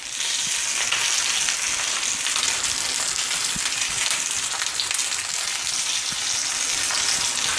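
A bone-in steak sears in a cast iron skillet with a loud, continuous sizzle and fine spattering crackle, steady from start to finish with no voices.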